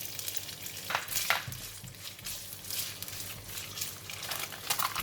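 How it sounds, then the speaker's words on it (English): Tofu frying in two tablespoons of cooking oil in a pan, a steady close sizzle with occasional crackles and spatters, heard on its own without any talking. "2 tablespoons of cooking oil, and I'm going to fry the tofu first."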